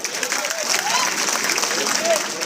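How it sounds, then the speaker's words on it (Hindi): Audience applause welcoming new members at a nationalist party gathering in a high school hall in Malegaon: steady, dense clapping from a crowd filling the whole clip, fairly loud and continuous with a few faint voices mixed in. "हम तमाम लोगों से गुजारिश करेंगे कि तालियों के साथ उनका इस्तेकबाल करें।"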